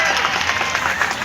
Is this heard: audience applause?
yes